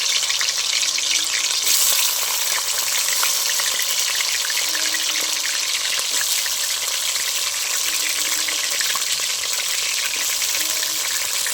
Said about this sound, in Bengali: আমি একটু ভেজে নিচ্ছি আলুটা।